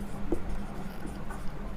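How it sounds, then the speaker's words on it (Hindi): A marker or chalk writes on a board during a physics lesson on the magnetic effect of electric current, giving a soft, brief scratch of strokes over a quiet room. "मैं यहाँ पर लिखता हूँ"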